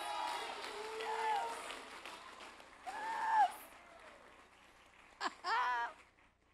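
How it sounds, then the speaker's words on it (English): An awards-ceremony crowd at a county coaches' event claps and cheers at a moderate distance, swelling and fading in waves, with voices and whoops breaking through over the applause. "Another big round of applause."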